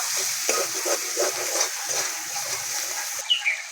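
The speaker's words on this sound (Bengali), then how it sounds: "মশলাটাকে আবারও কষিয়ে নেব" Chili and turmeric powder masala being sautéed in a pan, with a close, steady sizzle broken by scraping stirs and light knocks of a spoon, and no talking.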